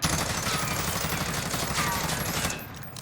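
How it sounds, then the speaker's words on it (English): XM4 assault rifle with no muzzle attachment firing a sustained full-auto burst in Warzone, loud and dense for about two and a half seconds before cutting off, with a trailing echo and no voices. "we're going to start off with a XM4 with no muzzle attachment to get a base recoil to work with"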